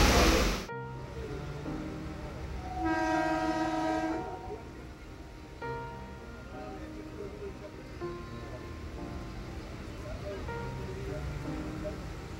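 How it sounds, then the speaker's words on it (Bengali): A passenger train rolls along after leaving the station, with a sharp burst at the start, a sustained horn blast a few seconds in, then a steady moderate rumble of the moving carriages to the end. "আমাদের ট্রেনটা ছেড়ে দিয়েছে।"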